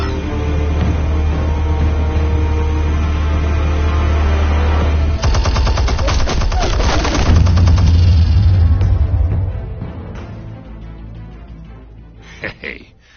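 Gunfire and explosions in the Batman: The Telltale Series video game, with a low rumbling drone giving way to a loud, rapid burst of shots and blasts, then fading to scattered impacts.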